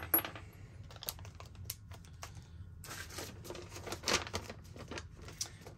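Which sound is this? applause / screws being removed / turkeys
screws being removed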